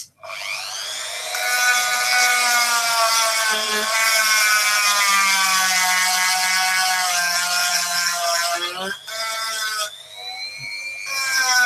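A drill spins up and whines steadily with a bright, harmonic motor tone, briefly cutting out and restarting near the end; loud and close, with no talk.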